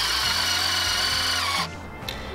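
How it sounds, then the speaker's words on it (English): A power drill whines steadily at high speed drilling through wood, then cuts off abruptly and leaves a quieter mechanical hum with a brief click. "So I'm just gonna use my drill and drill through here."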